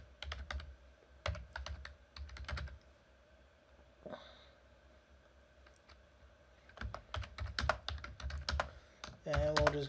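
Computer keyboard typing while entering a networking configuration to a YAML file, quick bursts of clicking keystrokes near the mic, pausing in the middle and picking back up with a faster run at the end.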